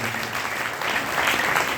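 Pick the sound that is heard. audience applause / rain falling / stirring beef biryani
audience applause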